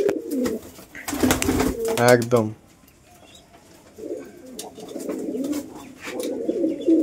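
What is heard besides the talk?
pigeons cooing, Indian Giribaz pigeons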